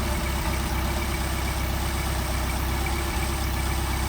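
A car engine fitted with Solex carburetors idles steadily at about 800 rpm, a continuous low rumble with an even pulsing rhythm, close and moderately loud with no talking.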